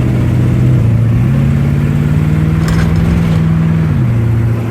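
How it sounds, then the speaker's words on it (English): A car engine suspected of an exhaust manifold leak runs close by, its steady hum rising twice in pitch as it is revved, then dropping back to idle. "I'm fixing to shower down on it to see if I can hear it blowing out the exhaust manifold."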